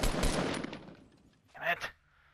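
Gunfire in the shooter game Squads, a rapid burst of automatic shots up front that fades out, followed by a short, closer second burst.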